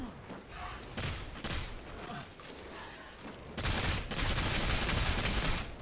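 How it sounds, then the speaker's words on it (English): Shell grenades fired in the Evolve video game during a Lazarus versus Goliath match, giving a run of sharp, loud bursts and thumps, then a denser stretch of blasts near the end. "I'm shooting one of those little shell grenade things."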